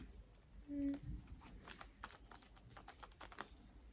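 Adhesive tape being pressed and stuck onto paper character cutouts in a notebook, heard as quiet, irregular crackly taps and rustles close by with no talking.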